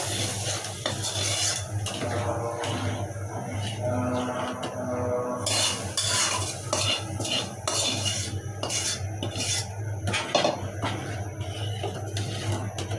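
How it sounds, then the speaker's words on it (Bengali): A metal spoon scrapes and clinks against a pot as fried spice paste is stirred into black gram dal, with busy clattering strokes over a low sizzle and a steady hum, no voices. "এখন দিয়ে দেবো মশলাটা ডালে।"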